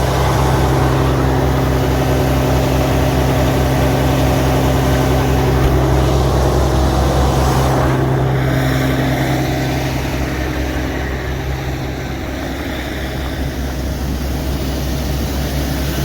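A Fendt 1167 tractor engine runs steadily, still cold, while the tractor works a grain auger: a loud, continuous low drone with a constant hum, close by and unbroken for the whole stretch, with no voices.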